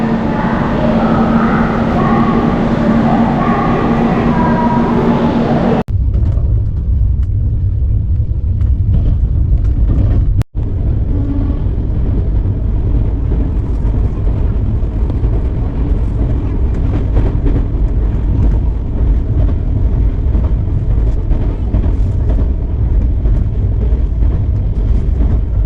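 Falaknuma Superfast Express train running between Jajpur and Keonjhar, a steady loud rumble of the moving coach throughout, with a brief dropout near the middle and a different tonal drone in the first few seconds.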